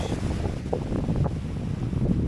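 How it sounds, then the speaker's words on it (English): Steady wind buffeting the microphone on the coast at Brook Chine, Isle of Wight, in the evening, a continuous low rumble with faint sea water movement underneath, no voices. "It's quite windy"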